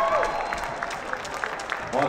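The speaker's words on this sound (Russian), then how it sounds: "Уважаемые болельщики, давайте приветствовать аплодисментами финалистов. Громче, громче давайте аплодировать" Audience applause for finalists at a ballroom dancing championship in Minsk, a steady crowded clapping wash that carries on throughout, with a voice talking over it.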